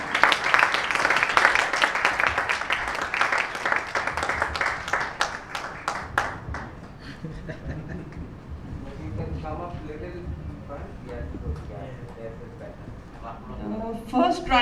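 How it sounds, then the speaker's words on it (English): Audience at a Bollywood musical evening grand finale claps loudly for about six seconds, individual hand claps distinct within the crowd, then the applause fades and someone speaks over a quieter hall before a few claps return. "A round of applause, ladies and gentlemen."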